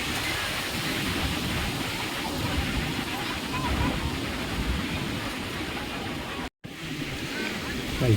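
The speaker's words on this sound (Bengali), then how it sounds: "সমুদ্র সৈকত, পুরীর সমুদ্র সৈকত।" Surf rolls in continuously at the crowded Puri sea beach on a holiday morning, a broad steady wash of waves with crowd noise blended underneath and a brief dropout near the end.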